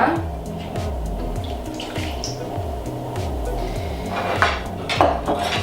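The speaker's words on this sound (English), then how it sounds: "So I have got some cocoa powder and some light brown sugar here, and I'm going to add in some hot water." Hot water poured into a bowl of cocoa powder and light brown sugar, a steady close liquid pour with faint clinks of kitchenware, heard alone without talk.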